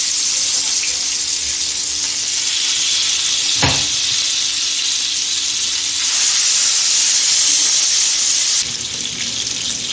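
Fish pieces sizzle in medium-hot oil, a steady broad frying hiss with a brief knock as a piece goes in, the sizzle continuing close and unbroken with no talking.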